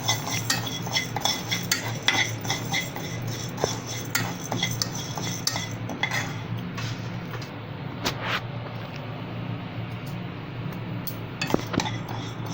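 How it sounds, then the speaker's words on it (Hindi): Urad dal dry-roasting in a pan for coconut podi, a spoon scraping and clinking against the metal in a steady stirring rhythm, close and fairly loud, with no voices. "पहले उड़द की दाल भून लेना।"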